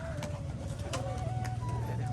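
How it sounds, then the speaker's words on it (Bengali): Pigeons being let out to fly give soft, low repeated cooing close by, against a light background hum and a few faint higher chirps. "দেখুন পায়রাগুলো সব বেরিয়ে যাচ্ছে আস্তে আস্তে।"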